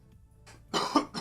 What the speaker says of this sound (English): I coughed on my arm